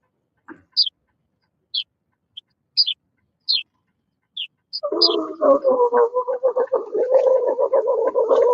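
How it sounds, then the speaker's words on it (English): A baby bird chirping, a handful of high, thin single peeps spaced about a second apart, then a rapid run of scratchy, buzzing calls that continues to the end, close and fairly loud. "Sounds like a baby bird."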